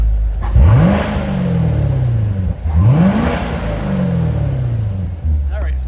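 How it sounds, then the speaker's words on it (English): A 2019 Corvette Grand Sport with a 7-speed manual gives two sharp blips, each rising quickly and then settling back to a loud, throaty idle, recorded up close. "Let's give it a couple revs for you."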